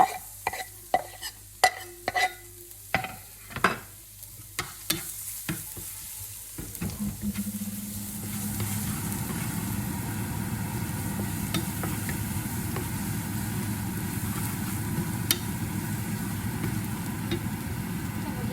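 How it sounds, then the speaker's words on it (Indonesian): Garlic hits hot oil and sizzles in a steady, close wash of frying noise, preceded by several sharp clatters of a spoon or pan being handled, with the sizzle then running on continuously for green-bean stir-fry. "Sudah panas, bawang putih masuk."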